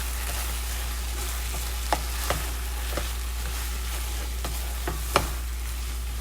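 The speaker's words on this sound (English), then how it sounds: "I'm going to finish stirring this around" Stuffed zucchini filling frying in a pan, with a steady sizzle and bubbling, plus several brief spoon scrapes and pops as it is stirred.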